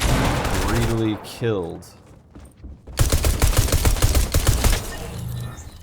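Pistol gunfire in the Fortnite video game, a fast run of sharp shots under someone talking and game sounds, loud and close.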